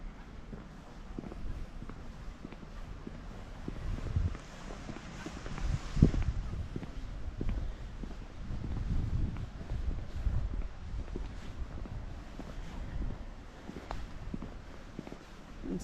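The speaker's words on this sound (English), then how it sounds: "It was very windy" Wind blows steadily through an outdoor spot in Palmanova, Mallorca, a continuous broadband rush with buffeting and scattered rustles and footsteps, plus one brief louder thump midway.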